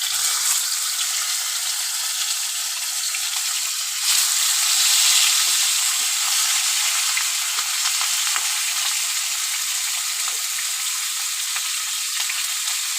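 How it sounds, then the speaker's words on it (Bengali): Two fish fry in hot oil in a wok, a loud steady sizzle and hiss filling the space, with a brief swell of crackle partway through and no voices. "কড়াতে আমি তেল দিয়ে দিয়েছি, তেলটা গরম হয়ে গেছে। আমি মাছ দুটো ভেজে নেব।"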